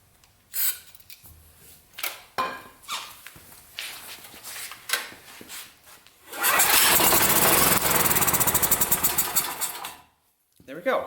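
Honeywell 7500W portable generator with a dirty carburetor, starting after a few recoil pulls and rattling noisily before catching and running loud and steady for several seconds, then cutting out; voices talk over the pulls.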